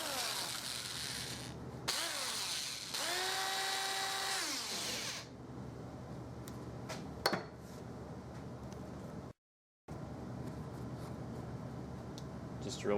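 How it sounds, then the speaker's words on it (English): A power drill bores through the metal rivets of the lace locks on a snowboard boot, with loud whining bursts that rise and fall in pitch, then scraping and clicking handling noises with a short silent gap. "Just drill through the rivet so that you have a hole."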